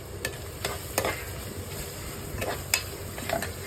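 Spice paste frying in a pan for chicken curry, a soft continuous sizzle close by with several sharp scrapes and taps of a stirring spoon spaced through it, no talking.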